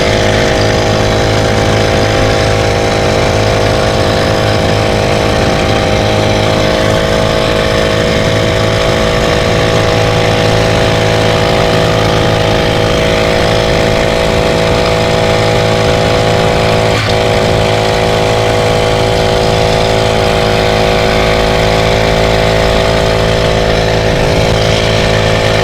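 A homemade bicycle powered by a brushcutter engine with a CVT drive runs steadily close by, a loud buzzing two-stroke drone that holds a constant pitch throughout with no voices.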